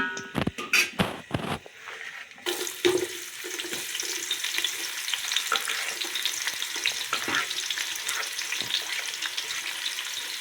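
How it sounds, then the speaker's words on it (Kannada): Onions for chicken biryani go into a hot pan. A few sharp clatters and knocks come first, then a loud, continuous sizzle settles in close by and carries on steadily to the end. "ಫಸ್ಟ್ ಇಷ್ಟು ಹಾಕ್ಕೊಂಡು ಫ್ರೈ ಮಾಡ್ಕೊಳ್ಳೋಣ ಆನಿಯನ್ ಹಾಕೋತಾ ಇದ್ದೀನಿ ಈಗ"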